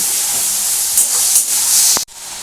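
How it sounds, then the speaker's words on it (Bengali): A steady, loud sizzling hiss of boal fish pieces with a spoon of sour yogurt frying in a pan that cuts off abruptly just before the end. "এবার এটাকে ভালো করে ভাজবো"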